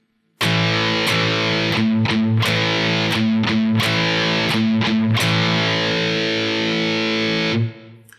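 Heavily distorted electric guitar plays a driving punk riff, open strings alternating with power chords in a steady, choppy rhythm, loud and close.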